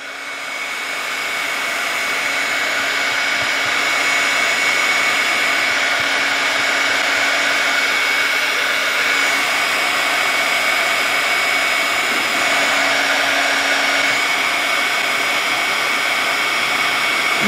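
Heat tool blowing hot air to melt vintage beeswax for a faux encaustic piece, a steady loud whirring roar that ramps up in the first seconds and holds evenly throughout, with no talking.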